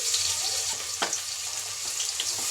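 Chopped onion, garlic, asafoetida and curry leaves sautéing in hot oil make a steady moderate sizzle, with a brief stir-like clatter near the middle.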